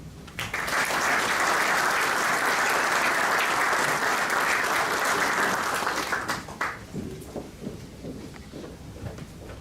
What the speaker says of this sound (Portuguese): pedindo para que recebam com uma salva de palmas o Presidente da Direção da Associação Humanitária dos Bombeiros Voluntários da Ribeira Grande, Norberto Gaudêncio.